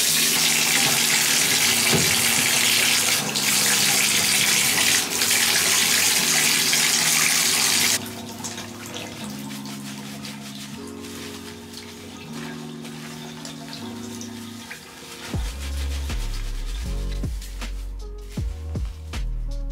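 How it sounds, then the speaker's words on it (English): Tap water running steadily into a sink to wash a reborn doll's hair, a loud broadband rush that drops in level partway through, with music playing throughout. "So I'm going to get the water ready."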